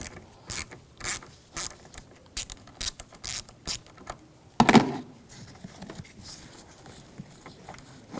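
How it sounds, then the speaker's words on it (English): A 10mm socket on a hand ratchet loosens the negative battery terminal on a 2011-2018 Volkswagen Jetta, giving a close series of sharp, rhythmic clicks, then a louder clunk and a few softer clicks. "We're going to use a 10mm socket. Loosen that up."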